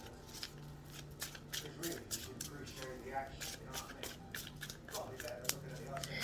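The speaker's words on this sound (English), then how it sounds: "I'm gonna shuffle a little bit more." Tarot cards being shuffled by hand in a series of quiet riffling, flicking bursts, close and soft, with a voice talking over parts of it.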